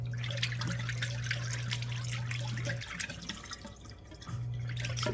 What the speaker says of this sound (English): Look how much water's coming out now.